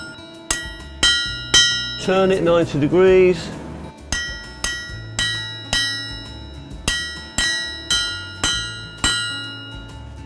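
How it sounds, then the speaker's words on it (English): A blacksmith hammers the end of an iron bar on the corner of an anvil, sharp ringing metallic strikes in a steady, evenly spaced rhythm, briefly paused while a voice gives an instruction. "bringing it to the corner edge of the anvil, and then drive the hammer with simple blows onto the end of the bar"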